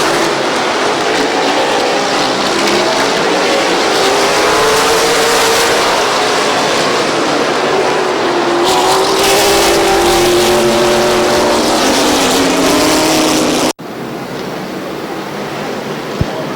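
Race cars roar around the oval at Midvale Speedway, a loud, sustained pack of engines with rising and falling pitch as they pass, continuing after a brief cut.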